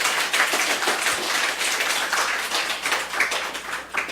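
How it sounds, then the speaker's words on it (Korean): A church audience at a special gospel meeting claps steadily and densely for about four seconds, a fairly close, even wash of many hands with no voices. "박수 한번 쳐드리세요"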